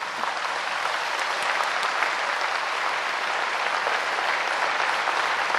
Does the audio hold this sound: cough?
no